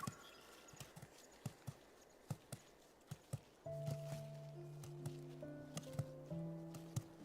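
Steady hoof clip-clops from a horse in a video game ring out one by one at a slow walking pace, then sustained musical tones swell in beneath the continuing footfalls.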